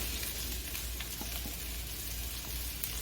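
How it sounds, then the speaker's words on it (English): Shallots and mushrooms sizzle in a pan, a steady, fairly quiet frying crackle with small scattered pops throughout and no voices. "So we're going to put in our shallots and put in our mushrooms."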